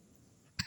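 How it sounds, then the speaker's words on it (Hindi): A single short cough, close and fairly sharp, at the end of a brief quiet moment. "थोड़ा सा खांसी वासी शुरू हो गई है"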